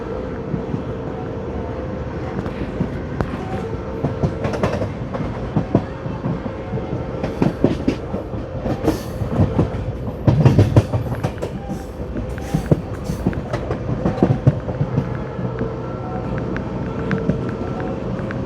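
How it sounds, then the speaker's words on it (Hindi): The 12482 Shri Ganganagar–Delhi Intercity runs past a station, loud and close, with a steady rumble and rhythmic clickety-clack of wheels over rail joints throughout. "और अपनी ट्रेन स्किप करेगी और उसको क्रॉस देगी।"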